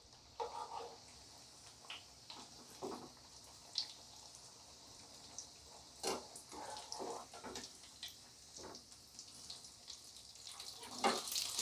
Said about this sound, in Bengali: আমি কম আঁচে এটা দিয়েছি, হ্যাঁ, লো মিডিয়াম ফ্লেমে এটা ভাজছি প্রথমে